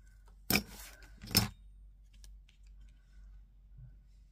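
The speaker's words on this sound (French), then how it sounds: "On va venir découper ça." Scissors cutting by hand during a winter-heart themed craft challenge: two short, crisp snips about a second apart, close and fairly loud, followed by quiet room tone.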